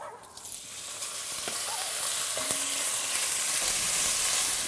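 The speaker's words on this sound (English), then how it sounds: "now I'm just going to add this beef right into the sizzling pot here." Beef sizzles loudly in a hot pot, a bright crackling hiss that swells and stays steady, with a faint clink of utensils.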